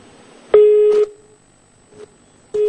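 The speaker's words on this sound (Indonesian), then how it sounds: "maaf sekali sambungan telepon dengan kontributor Metro TV M. Rizky terputus" Telephone tones after a cut-off call: clear steady beeps of about half a second, repeating with gaps and a faint blip between, loud and alone on an otherwise quiet line.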